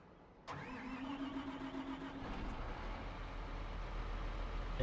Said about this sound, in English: Definitely sounds like a bigger engine.